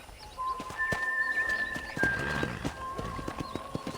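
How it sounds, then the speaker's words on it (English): Rhythmic hoof clip-clops of a horse with a whinny in the video game Red Dead Redemption, steady footfalls over a tonal background hum, close and fairly loud. "let's see if you can still ride a horse"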